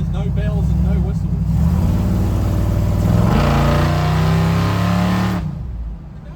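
Engine of a 1964 Ford F-100 pickup truck on a test drive, a steady loud cabin drone with rising and shifting tones as it accelerates and changes gear, then easing off near the end, heard under people talking.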